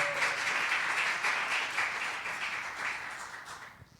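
Church congregation applauding together, a dense, steady wash of clapping that fades gradually toward the end, with no voices on top.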